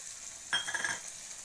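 A soft burst of sizzling as onion, tomato and garlic hit a hot pan for sambar, a short frying hiss with faint clinks of a utensil, quiet and close, fading after about half a second.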